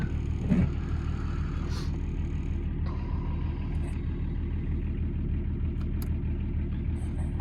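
A 1984 Lincoln Mark VII LSC with a 2.4L turbo diesel engine idles steadily after a cold start, a low, even rumble that continues alone throughout with a few faint clicks on top.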